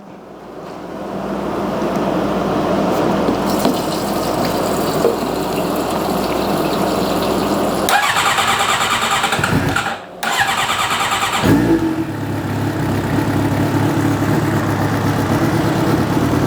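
A 2022 Suzuki GSXR 750 engine cranks and fires, then runs steadily and loudly close by, with a brief cut-out and restart near the end, no talking.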